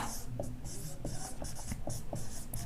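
Points are written on a board with quick, rhythmic scratching strokes and short taps, close and steady throughout.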